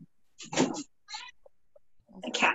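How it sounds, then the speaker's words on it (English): A pet cat meows indoors, several drawn-out, close calls with short pauses between them, fairly loud and heard alone. "The cats."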